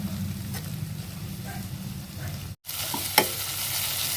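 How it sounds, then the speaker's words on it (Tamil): Onions sizzle steadily in a hot pan with a soft crackle, stirred now and then with light scraping, then a brief pause before the sizzle resumes. "வெங்காயம் நல்லா வதங்கிடுச்சு"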